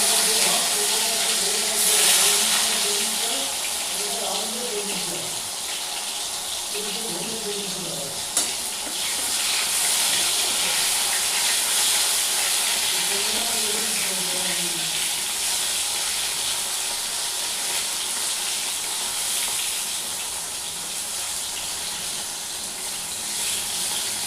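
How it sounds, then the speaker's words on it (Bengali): Chopped tomatoes frying lightly in oil in a kadai give a steady sizzle throughout. Stirring noises come through now and then, with a faint voice in the background. "তারপর আমি এবার কড়াইতে তেল দিয়ে টমেটো কুচিগুলো হালকা ভেজে নিচ্ছি"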